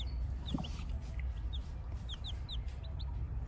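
Hens cluck softly in a few short, scattered calls over a steady outdoor background hum, with faint bird chirps here and there.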